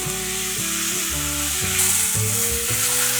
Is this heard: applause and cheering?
no